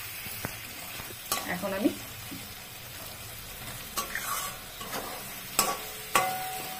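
Chital fish muitha fries in oil in a pan, giving a soft, steady sizzle broken by several sharp clanks and scrapes of a spoon stirring, with a brief bit of speech.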